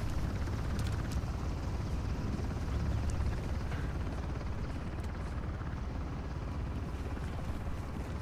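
A helicopter in the video game Uncharted: The Lost Legacy gives a steady, faint rumbling whir throughout, with a wind-like wash and no talk.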